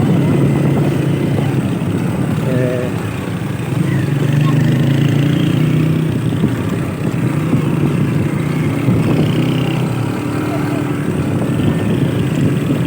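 A motorcycle carries three riders through a small market in a Kashmir valley. Its engine drones loud and steady from the whole ride, with road and wind rumble, while someone talks over it.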